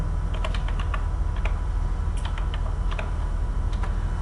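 Typing a search term on a computer keyboard, heard as a quick, irregular run of crisp key clicks in small bursts over a steady low hum.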